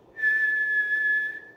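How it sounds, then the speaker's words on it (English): Steady sustained whistle into a microphone amplifier circuit built for a TinyPICO radio project, close and fairly loud, holding one pitch for over a second before stopping. "whistle into it. It's obviously responding to my to my voice"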